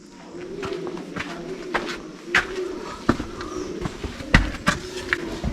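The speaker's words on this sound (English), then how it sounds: "Oh, it's doves." Doves cooing inside a rock cave at Hocking Hills State Park in Ohio, soft repeated low coos echoing under scattered footsteps and faint rustling, with no talk.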